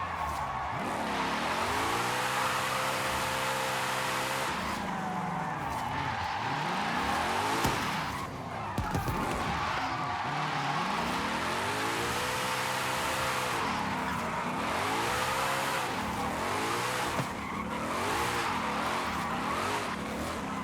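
A car drifts in Forza Horizon 5, with a continuous engine roar that rises and falls and repeated long tire squeals sweeping up and down, close and loud throughout.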